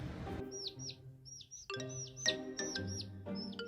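A pet bird in a home shared with a cat gives a quick series of bright, close chirps and tweets, some clustered and some spaced out, over a low background hum.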